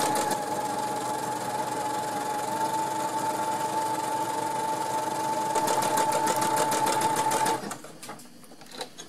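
A sewing machine runs steadily for about seven and a half seconds, stitching a combined overlock and seam in fabric at 3 mm length and 6 mm width, then stops, leaving a few faint handling clicks.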